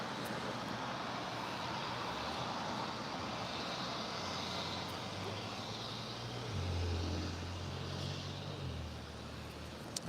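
Distant American Airlines Airbus A319 jet at LAX, a steady broadband engine roar with a low drone that swells slightly midway, continuous and unbroken with no talk.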